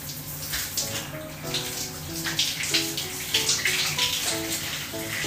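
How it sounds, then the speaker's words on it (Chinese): Water running and splashing in a bathtub during a rinse, steady gushing with bright splashes close by, alone without talk. "来冲水"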